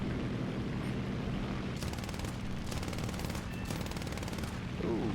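Repeated bursts of machine gun fire aimed at a TBD-1 torpedo bomber in War Thunder, rapid rattling volleys over a steady aircraft engine drone, with a plane piloted by a He-51 biplane.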